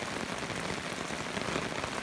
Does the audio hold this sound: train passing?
no